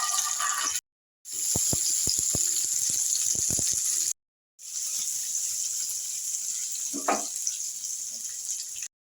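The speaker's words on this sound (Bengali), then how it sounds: "এটা ফ্রাই হচ্ছে, এবার কাজু কিশমিশগুলো দিয়ে দিচ্ছি। কাজু কিশমিশটা ভাজা হোক আস্তে আস্তে।" Cashews and raisins fry in a pan for a Bengali basanti pulao, giving a steady loud hiss broken by two short gaps, with scattered crackles and pops and one brief low clatter near the end.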